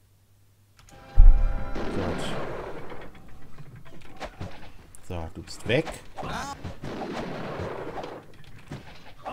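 Bursts of gunfire and impacts in the video game Might and Magic VII: For Blood and Honor crack and boom in rapid succession while a person talks over the action.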